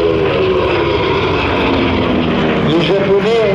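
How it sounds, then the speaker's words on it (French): A propeller-driven F4U Corsair warplane flies past at an air show, its engine drone steady and loud throughout with an airy aerodynamic whistle riding above, and a pitch sweep near the end as it passes. "le bruit de l'avion est un bruit qui comporte le sifflement aérodynamique sur les surfaces de la machine"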